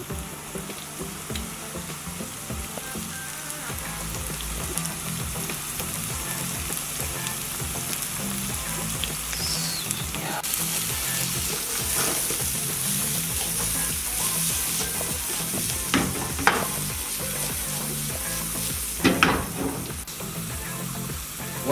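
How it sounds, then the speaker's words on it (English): Chopped leeks sizzle steadily in a hot pan for mushroom and leek pasta, with occasional scraping and stirring sounds over the continuous frying hiss; no one speaks. "Shall put in our leeks."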